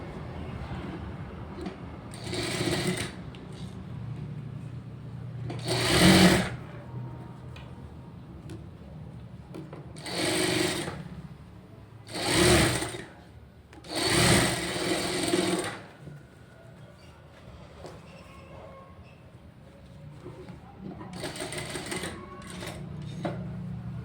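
A sewing machine stitches straight seams for the cross panels on a blouse, running in several separate whirring bursts with quiet pauses between them, heard up close and without speech.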